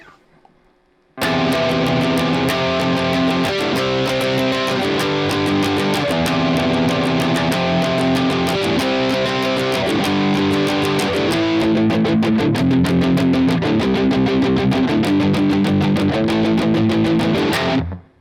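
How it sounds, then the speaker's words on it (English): A heavily distorted electric guitar plays a continuous chugging chorus riff with repeated chord changes, loud and up close, without any voices. "The chorus guitar part will sound like this."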